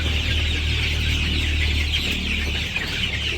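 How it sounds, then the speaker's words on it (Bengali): Chickens cluck in a village yard over a constant loud hum, and the calls blend into a steady noisy background. "আমাদের মুরগিগুলো আস্তে আস্তে দেখতে দেখতে বড় হয়ে গেছে"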